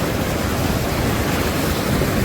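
Gentle sea waves wash steadily onshore, a soft, even roar of surf with no breaks or voices, close and continuous throughout.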